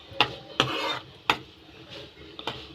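A spoon clinks and scrapes four or five times against a pan while tomatoes cook in oil for tomato chutney, with light sizzling between the sharp strikes.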